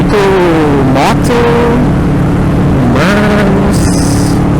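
Motorcycles passing on a road, loud engine drones that rise and fall as several bikes go by close to the microphone, with wind rushing throughout.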